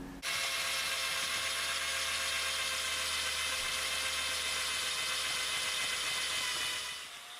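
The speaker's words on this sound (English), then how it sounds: "I'm just drilling these out now so they're nearly sunk in." A drill whirs steadily while enlarging bolt holes in a carbon door for a classic Mini, one continuous high-pitched run that starts abruptly and winds down at the end.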